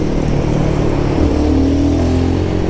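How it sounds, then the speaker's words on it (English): Engine of a Royal Enfield Guerrilla 450 motorcycle running steadily amid heavy traffic, a continuous close mid-pitched hum with a slight rise in pitch partway through and no break in the drone. "this is also essential to show you how this motorcycle is in very heavy traffic"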